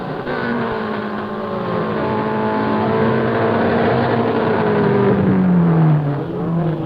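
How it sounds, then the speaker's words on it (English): A 1972 Lotus Elan race car climbs Knox Mountain Hill Climb in Kelowna, British Columbia, engine revving loudly and steadily, pitch rising and falling through gear changes and corners. "This is a Lotus Elan"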